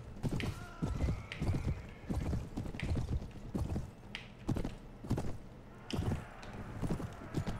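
Horse hooves clip-clop in a steady galloping rhythm in the Mount and Blade Warband video game's Game of Thrones mod, with an occasional neigh amid the clatter and thuds of a busy battle, loud and close.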